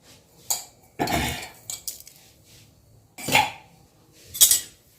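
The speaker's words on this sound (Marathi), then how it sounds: "उडीत डाळ पण सोनेरी कलर उपर्यंत भाजून घ्यायचं" Urad dal being dry-roasted in a pan over a medium gas flame, heard as a few separate scraping, clinking stirs of the spatula against the metal with quiet gaps in between.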